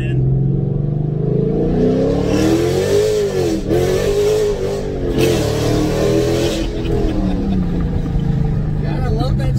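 Dodge Challenger Scat Pack 1320 engine revving loudly up and down through several throttle blips, a deep continuous roar close by, with people talking over it.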